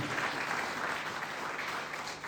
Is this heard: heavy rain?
no